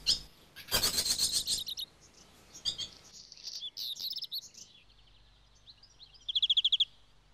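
A grey bird with a rusty tail, probably a black redstart, sings in a garden. Bursts of high chirps and scratchy phrases come close and clear, ending in a quick rhythmic trill.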